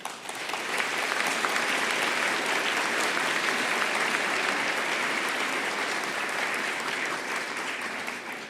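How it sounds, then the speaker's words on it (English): Steady audience applause filling a winter convocation ceremony hall at Okanagan College, dense and even clapping that holds at full strength for about eight seconds before easing slightly at the end. "Please give them a round of applause."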